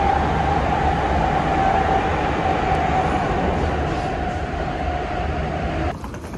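A Prague metro train rolls through the tunnel with a loud, steady roar and a sustained whine, droning evenly before easing off near the end, without talk.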